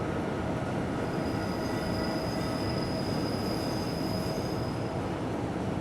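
Simulated train running on the Albula Line in Train Simulator 2017, a dense steady rumble of wheels on track with a thin high wheel squeal held over it, continuous and close.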